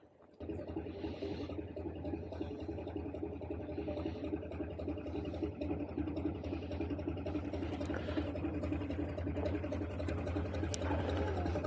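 A steady low chugging canal boat engine rumble with a rhythmic throb starts abruptly and continues evenly as the boat passes close by on the Grand Union Canal, with faint water sounds.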